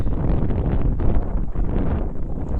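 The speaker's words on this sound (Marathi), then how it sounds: "मस्त वाटलं वारा बघा काय सुटतोय असं कंटिन्यू वारा" Strong, continuous wind roars across the microphone outdoors on a cold day, a loud, unbroken rush with no pauses and no voices.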